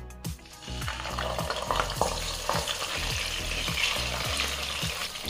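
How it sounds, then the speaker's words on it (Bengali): Fish pieces frying in hot white oil, with a loud, steady sizzle and crackle close by. Rhythmic low knocks and stirring clatter sound under the sizzle the whole time. "তেল ভালোভাবে গরম হয়ে গেছে। এবারে এতে মাছগুলো দিয়ে দিচ্ছি।"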